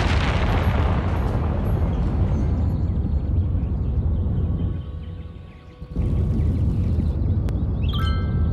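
Garbage rocket launching in the city-building game Cities: Skylines, a loud sustained roaring rumble that dips briefly in the middle before surging again, with small clicks near the end.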